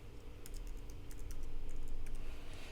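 Keystrokes on a computer keyboard as a username and password are entered, an irregular run of close, crisp clicks over a steady low room hum, with no voices.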